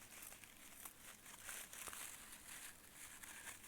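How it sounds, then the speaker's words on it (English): Packing material is crumpled by hand before being set in transparent resin, giving a soft, faint, continuous crinkling and rustling close by. "I think the best idea is just to kind of crumple it."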